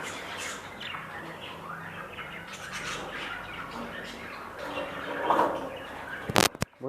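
Caged pet birds chirp and squawk close by in a short busy flurry, with an abrupt clatter near the end.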